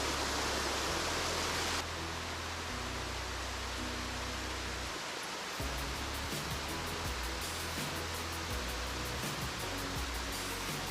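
Waterfall at Tumpak Sewu in Lumajang, heard from a steep trail down to its base: a loud, steady roar of falling water, continuous throughout, with the rushing tone shifting slightly in the first few seconds.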